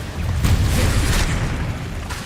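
The Confringo spell explodes in the video game Hogwarts Legacy with a loud, sustained blast. A deep rumbling boom lasts around two seconds, with a brief burst partway through, and no voices are heard.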